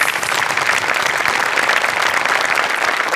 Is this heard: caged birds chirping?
no